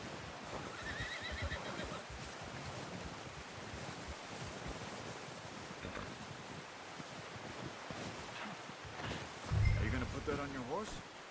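A horse whinnies in Red Dead Redemption 2 against wind and ambient noise, with hoof clops and speaking voices also heard.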